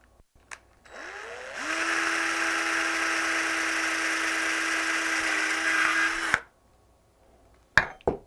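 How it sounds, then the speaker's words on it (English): Power drill boring a small hole through a 1-inch PVC pipe seated in its fitting: the motor winds up and holds a steady whine for about five seconds, then stops, followed by brief handling clicks. "what I do is just drill me a little simple hole here."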